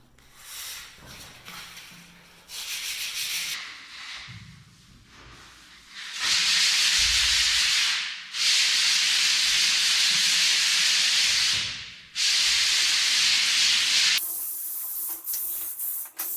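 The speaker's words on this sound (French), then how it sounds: "tout ce qui est lisse, on va essayer de venir le gratter comme ça en surface pour améliorer l'accroche" Scraping a smooth PVC vinyl floor surface by hand to roughen it for adhesion, long steady abrasive rasping strokes in close, loud bursts separated by short pauses.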